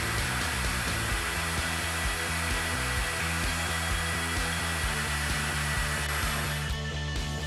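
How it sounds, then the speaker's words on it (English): A power drill with a hole saw runs steadily and loudly throughout, a constant motor whine with a grinding undertone as it bores a 1-inch latch hole through the edge of a wooden door. "Drill the 1 inch latch bore through the edge of the door until it meets the face bore hole"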